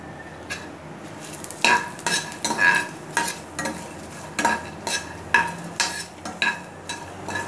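Dried red chilies and curry leaves frying in a pan for sesame rice, with a light sizzle under a regular rhythm of spatula scrapes and taps against the pan, close and clear, about a dozen strokes.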